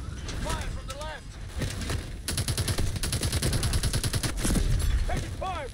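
Gunfire rages through a Call of Duty Advanced Warfare battle in a bio lab: dense, rapid automatic bursts fill the middle, with louder shots near and further ones off to the side, while short voice calls sit over the fusillade.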